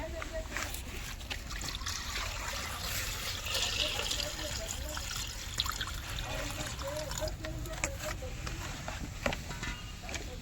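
Water trickles and pours steadily in a home kitchen while egg curry is being prepared, a continuous liquid stream with faint clatter and a voice speaking quietly in the background.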